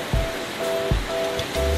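Surf at Pudak beach in Blitar, a steady wash of breaking waves with a few low thumps, moderately loud with no voices.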